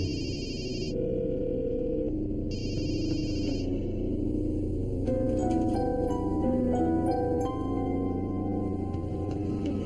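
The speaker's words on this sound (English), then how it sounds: "And Jonathan realized it when he called Michelle on her cell phone and there was no answer." A cell phone rings unanswered, two bursts of trilling electronic ringtone about a second long each, then a synthetic musical score takes over beneath a low rumble.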